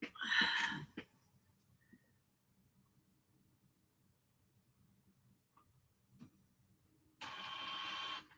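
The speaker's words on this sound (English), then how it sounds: "Oh, looks like I need to clean the heads on my printer." An inkjet printer with heads needing cleaning runs in two bursts: a short mechanical whir at the start, a long quiet gap, then a steady grinding print pass near the end.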